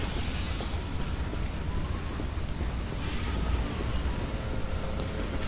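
Rain falling in the video game Dead Island, a steady, dense hiss of downpour at moderate level running unbroken throughout, without voices.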